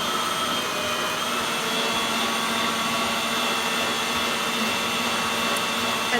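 A Kichot stand mixer mixing cookie dough gives off a loud, constant motor whir that holds steady and unbroken throughout, with no speech over it.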